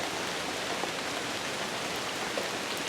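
Steady rain falls outdoors on oak leaves in a wooded spot, a dense, even hiss of many drops close by with no gaps or voices.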